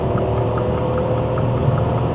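A VW Up small car pulls onto a motorway in third gear at about 4,000 rpm, heard from inside the cabin as a steady droning engine hum under road and wind noise, with no voices.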